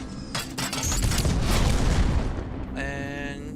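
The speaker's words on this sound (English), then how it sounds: "Cluster bombs. Some of them got stuck in the ceiling." Cluster bombs go off in the video game Revulsion as a rapid string of loud, close explosions merging into a rumbling roar, fading to quieter ringing debris at the end.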